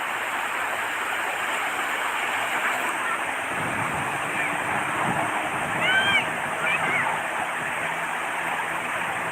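Sea waves surge and wash onto Digha beach in a steady broadband roar, the near surf swelling slightly midway, with faint voices and other beach sounds mixed underneath.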